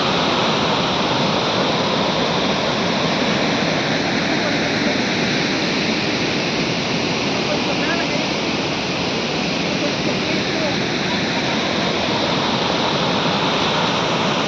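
Water pours through four open sluice gates of Harangi Dam at Kushalnagar, Karnataka, making a loud, steady, unbroken roar of rushing white water that fills the whole scene without pause.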